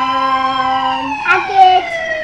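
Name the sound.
ambulance siren ringtone sound effect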